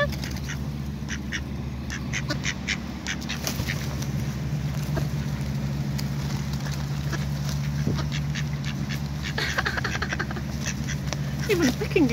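Wild ducks quack repeatedly and clamor while being hand-fed from the palm, among pigeons, with a steady low background hum and sharp quacks scattered through the clip.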